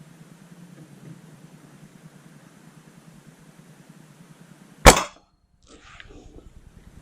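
A single sharp crack from a Norica Spider GRS .22 break-barrel air rifle firing, sudden and fairly close, breaking a low steady hum and followed by soft rustling.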